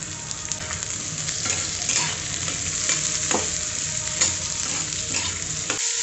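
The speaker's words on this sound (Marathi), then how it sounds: "कांदा चांगला गुलाबी रंगावरती आणि मऊ होईपर्यंत आपण परतून घेऊयात" A large chopped onion sautés in hot oil in a kadhai, giving a steady crackling sizzle broken by repeated scraping stirs, close and alone with no talk.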